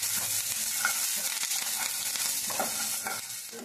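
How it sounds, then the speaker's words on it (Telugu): Peanuts and curry leaves fry in a pan with a dense, continuous sizzle, while a spoon stirs them with soft scraping strokes; the sound is close and steady, and no one speaks. "ఈ విధంగా వేయించాలి కరేపాకు చక్కగా వేగిపోద్ది"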